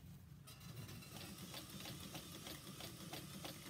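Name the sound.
sewing machine stitching kitchen towel fabric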